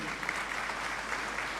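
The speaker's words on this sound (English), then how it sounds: "I think we need a lot of applause here." Audience applause at a University of Ghana congregation ceremony in a great hall, a brief steady wash of clapping from a large seated crowd, alone without talk.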